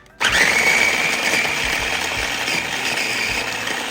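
An electric food chopper whirs steadily as it chops tomatoes and pepper, starting abruptly and holding a loud, even motor drone close by.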